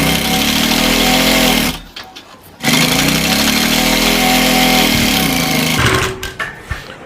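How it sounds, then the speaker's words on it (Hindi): A sewing machine stitches a gents kurta, running in loud steady whirring bursts near the microphone, pausing briefly twice before starting again. "इस निशान से हम सिलाई लगाते हुए ले जाएंगे"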